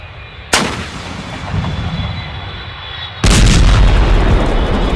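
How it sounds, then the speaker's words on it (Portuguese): An explosion in the animated Ultimate Spider-Man series at night, sounding like a sudden loud blast followed by a sustained rumble, and then a second, heavier booming burst that stays loud to the end. "uma explosão acontece."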